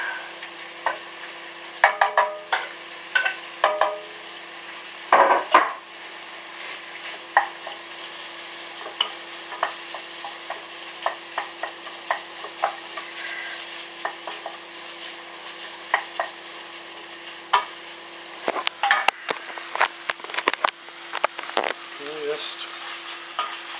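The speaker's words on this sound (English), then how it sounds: "it's just bacon and chorizo being fried" Bacon and chorizo fry in a pan for a pasta bake, with a constant crackling sizzle and frequent sharp scrapes and knocks as the meat is stirred.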